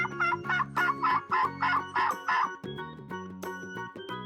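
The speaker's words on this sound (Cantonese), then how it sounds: "火雞" A turkey gobbles in a rapid burst of loud, rattling calls followed by softer clucks, close and alone over a faint musical backing.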